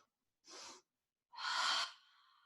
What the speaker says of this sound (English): We inhale.